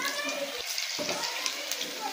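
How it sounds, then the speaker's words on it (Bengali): Cauliflower pakoras coated in lentil paste frying in oil, giving a steady, dense sizzle and crackle that runs throughout, with a voice talking over it. "তো পকোড়াগুলো এখন পুরোপুরি ভাজা হয়ে এসছে"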